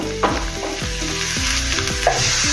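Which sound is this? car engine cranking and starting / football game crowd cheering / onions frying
onions frying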